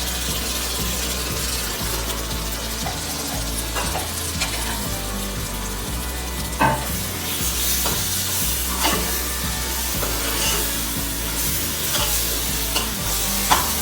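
Chopped tomatoes frying in a pan for chicken biryani, a steady close sizzle with intermittent scraping and stirring knocks of a spoon against the pan, no voices.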